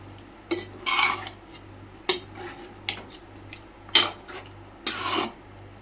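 Gongura chicken curry is stirred in a pan, a spoon scraping and clinking against the metal in a series of separate strokes about a second apart. A steady low hum sits underneath.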